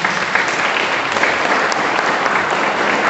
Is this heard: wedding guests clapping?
yes